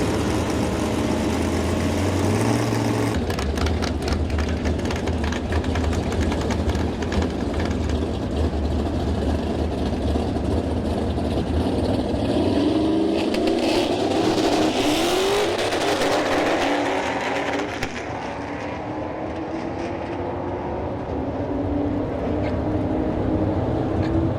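A Whipple-supercharged S550 Ford Mustang at a drag strip rumbles loudly and continuously close by, its engine note rising and shifting as the car moves through a pass.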